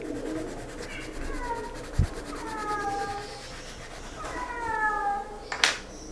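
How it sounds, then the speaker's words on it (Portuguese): A cat in heat meowing at home in several drawn-out, wavering yowls, moderately close, with some rubbing and handling noises around them. "E o gato tá miando"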